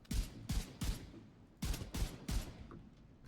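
Six sharp, heavy gunshots from a Vindicator build in The Division 2 fire in two quick groups of three, each with a punchy low thump and short decaying tail, clear and alone.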